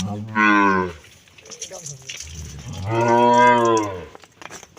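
A dairy cow, an 18-month-old four-toothed heifer at a Bangladeshi cattle sale, moos loudly twice, a long low call followed by a second drawn-out bellow after a short pause, with faint background noise between.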